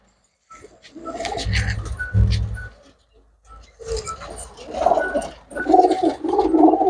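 Pigeons coo up close in a loft, deep throaty coos in several bursts separated by short pauses, with some fluttering and brighter calls toward the end.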